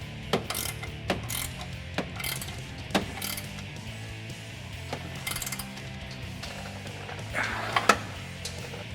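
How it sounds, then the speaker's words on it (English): A 19mm ratcheting wrench tightens the nut on an aftermarket upper control arm of a Toyota Tacoma, giving a series of sharp ratchet clicks in irregular bursts, fairly close and moderately loud over a low steady hum. "we're gonna take a 19mm wrench on the left side and a 19mm ratcheting wrench on our nut"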